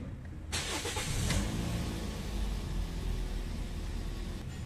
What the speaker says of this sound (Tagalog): ako na yung mag-start ng sasakyan ni customer para mapainit ko na itong makina.